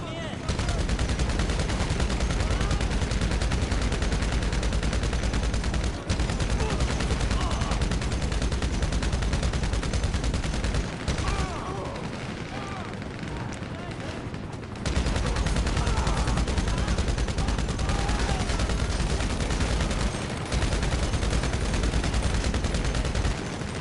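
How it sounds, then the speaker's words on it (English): Sustained, dense machine gun fire in GTA Online, loud and nearly continuous with brief pauses, as sprays of rapid shots from an enemy machine gunner and the player crackle throughout. "That's a machine gunner. You gotta be careful with them."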